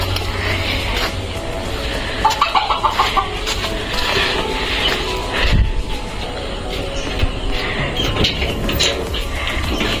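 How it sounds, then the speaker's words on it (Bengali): Chickens cluck and squawk while being fed grain outdoors in a village, over a steady noisy background, with a few sharper bursts of activity near and around the flock. "এই আমার বোন মুরগিগুলোর খুদ দিচ্ছে"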